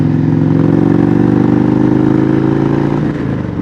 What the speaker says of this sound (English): let's go ahead and take a ride on the bike